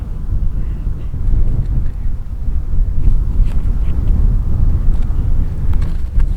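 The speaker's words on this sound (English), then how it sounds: "Okay, wind." Strong wind buffets the microphone outdoors at a shooting range, a loud continuous low rumble with gusty swells throughout.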